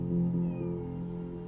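Cat meowing in the video game Copycat, a couple of short high mews over a steady low game music bed, close and fairly clear.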